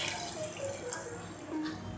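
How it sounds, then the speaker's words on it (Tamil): Water splashes and trickles into a mixer jar being rinsed in a home kitchen while cooking paneer butter masala, a faint, brief running-water sound with light drips. "மிக்சியில் கொஞ்சம் தண்ணி ஊற்றி அலசி அதையும்"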